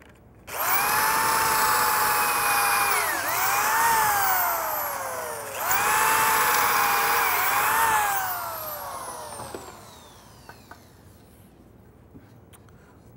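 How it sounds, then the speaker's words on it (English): A power drill bores pocket screw holes into a wooden cabinet stretcher, with two loud, high whining bursts, each winding down in pitch, followed by a fading spin-down and a few faint clicks. "I'm just going to show, drilling a few of these holes here"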